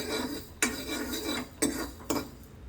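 Fenugreek seeds sizzle in a pan as they are sautéed dry for a village-style dry fish curry, with a steady soft crackle broken by three sharp metallic spoon scrapes and clinks against the pan.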